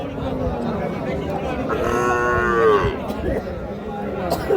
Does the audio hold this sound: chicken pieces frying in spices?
no